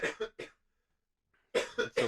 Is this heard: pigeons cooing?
no